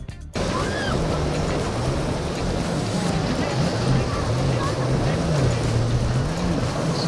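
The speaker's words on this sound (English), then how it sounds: "when he lost control of his boat in the treacherous condition of the ocean, it almost sunk" A boat's engine drones and wavers steadily under rushing water and rough ocean wave noise, continuous and close throughout.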